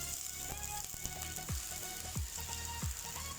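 Rice and vegetables frying in a pan for spicy vegetable fried rice, a steady close sizzle broken by several sharp knocks and scraping stirs at uneven intervals, with no speech.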